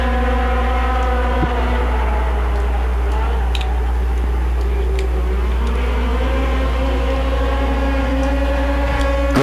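A pack of racing snowmobiles, including a 1989 Polaris in a Sport Formula 500 heat, drone loudly with layered sustained engine tones shifting in pitch, a dense continuous roar heard from trackside alongside a commentator's voice.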